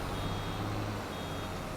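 A vehicle's warning alarm in Farming Simulator 22 sounds as a steady electronic tone over a constant engine drone, loud and unbroken throughout.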